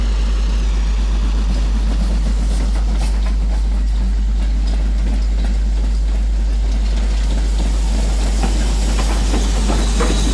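A steam-era train rolls into a heritage station at Quorn and Woodhouse, a steady low rumble and hiss of rail wagons building slightly toward the end, heard alone without voices.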